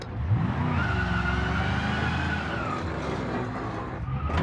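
In the BeamNG driving game, a damaged car drags its underside along the ground, a continuous grinding scrape and tonal squeal layered over engine drone, loud and close for the whole stretch.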